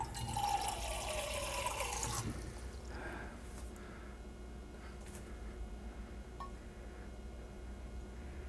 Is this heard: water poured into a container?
yes